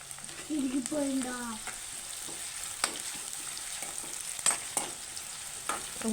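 Potatoes frying in oil in a pan for aloo fry, a constant sizzle broken by scraping stirs and clinks, with a voice speaking briefly near the start.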